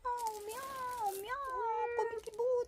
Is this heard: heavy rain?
no